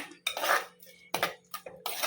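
A spoon clinks and scrapes against a dish in a few separate strokes while fried mustard seeds are mixed into pachadi, sharp and close, with quiet gaps between the clatters.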